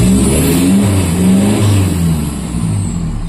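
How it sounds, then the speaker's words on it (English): Toyota Hilux pickup with a turbocharged engine revving hard from inside the cab, a loud, close engine roar climbing in pitch then easing off, with no talk over it. "let's try and rev it up to red line"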